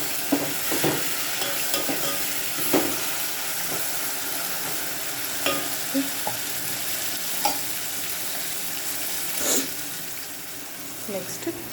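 Tomato, potato and eggplant curry being stirred in a pan, a steady sizzle with scattered scraping clicks of the spoon through the mix, close and moderately loud with no talking.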